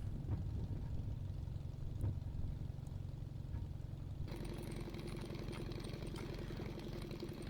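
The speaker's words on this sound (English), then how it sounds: "So now we're going to taxi back down and get set up for a another run after we get down to runway 6 again." A Team Minimax 1100R light aircraft engine runs at a low, steady taxi drone, heard from on board, with the tone shifting to a busier, brighter hum partway through.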